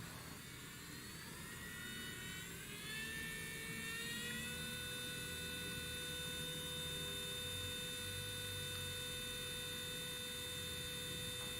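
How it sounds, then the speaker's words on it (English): A small Belle electric nail drill, rated 35000 RPM, runs with a quiet, steady whine that rises in pitch as it speeds up, then holds at a constant high tone. "This is the sound of Belle electric file."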